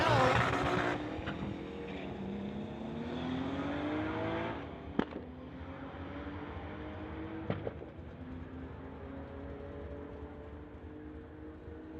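A 1992 VW GTI and a Chevelle launch side by side at a drag strip, engines roaring loudly at first, then fading into a long, steady drone as the cars speed away down the track, with two short sharp pops along the way.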